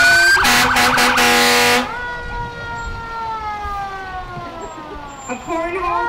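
Fire truck in a parade blasting its air horn in several short loud bursts, then a siren winding down slowly in pitch, with a voice talking over the trailing wail.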